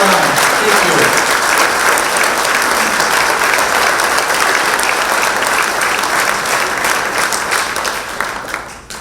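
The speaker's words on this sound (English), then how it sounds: "ladies and gentlemen, a round of applause for our 3 fallen soldiers, Gerald, Ron, and Ron." Sustained applause from a ceremony audience at a high school hall of fame induction, dense and steady clapping filling the room before tapering off near the end.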